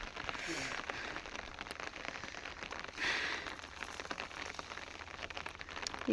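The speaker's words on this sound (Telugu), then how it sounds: "చిన్న చిన్న చినుకులు అయితే పడుతున్నాయి" Light rain of small drops pattering softly and steadily outdoors, a faint continuous hiss with scattered tiny taps.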